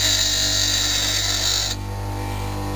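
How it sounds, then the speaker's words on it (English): Bench grinder spinning at full speed while a woodturning tool is sharpened against the wheel, a loud steady whine and hum with a gritty edge that drops in intensity partway through as contact eases. "I hold the tool once the grinder's at full speed and introduce it into the grinder"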